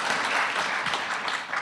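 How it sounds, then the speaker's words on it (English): Audience applause at a celebration event, a soft, steady patter of clapping from a crowd heard at moderate distance for under two seconds. "I love all the applause for all of you."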